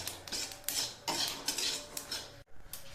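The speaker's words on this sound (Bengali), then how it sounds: "তিলটাকে একটু হালকা নাড়িয়ে নেবো" Sesame seeds and nuts are stirred in a frying pan with a metal spoon, making repeated scraping and clinking strokes up close with no talking.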